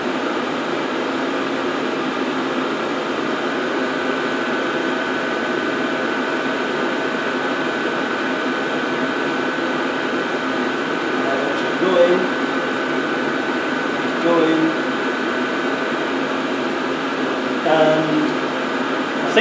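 Diesel parking heater running with a steady, loud whirring fan hum and a continuous broadband rush, close by, with a few faint knocks near the end.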